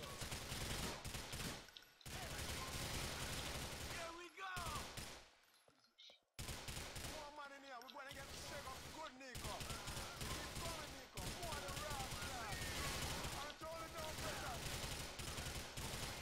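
Gunfire from the video game GTA IV comes in repeated bursts of rapid automatic shots and single cracks, with short pauses between volleys. Someone talks now and then between and over the shooting.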